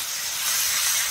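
Garlic, ginger and cumin masala, with turmeric and chili powder, frying in a hot pan, giving a close, steady, bright hissing sizzle that holds evenly for a brief moment with no talking.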